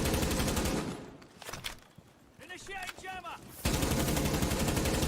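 Rapid automatic gunfire from a hard-recoiling gun in the video game Tom Clancy's Rainbow Six Siege rattles loudly in dense bursts at the start and end, with a quieter stretch between where a voice speaks.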